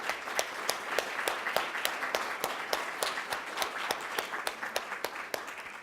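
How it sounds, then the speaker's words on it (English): An audience at a women veterans' health event applauds speakers with steady, dense clapping, sharp individual claps standing out in a regular rhythm over a continuous wash, moderately loud throughout. "let's have another round of applause for our incredible speakers"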